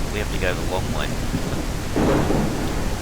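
Steady rain and rumbling thunder in the survival video game No One Survived, a dense continuous wash with a swelling thunder rumble near the end, under a voice talking briefly at the start.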